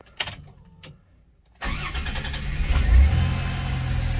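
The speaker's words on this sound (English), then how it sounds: "Cold start on the 90." A 1990 Dodge Grand Caravan engine is cold-started: a few brief cranking clicks, then the engine catches and settles into a steady running rumble with a slight rev swell, heard close with no talk.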